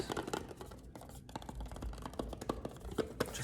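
Spare D&D dice are handled and shuffled up close, producing a steady run of small clicks, taps and scratchy rattles at a quiet level with no talking.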